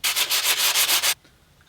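Sandpaper rubbing by hand across a carbon fiber engine cover from an Audi B7 RS4, six quick rhythmic back-and-forth strokes, close and loud, then stopping abruptly into near silence.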